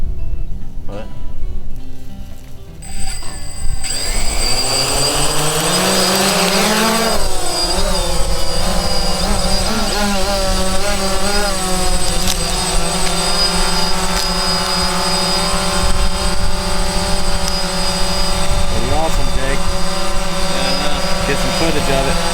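A camera-carrying quadcopter drone flies outdoors with a loud, steady buzzing whine of rotors that rises in pitch as it lifts off, staying close and dominant throughout with no talk.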